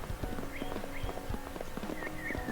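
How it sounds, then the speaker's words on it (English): A horse gallops in the Mary-Kate and Ashley Winner's Circle PS1 video game, with steady, rapid hoofbeats clopping in an even rhythm over a constant musical background, close and clear. "you can go full gallop on the horse the entire time"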